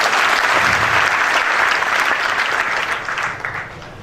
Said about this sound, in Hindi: एक बार तालियों के साथ स्वागत।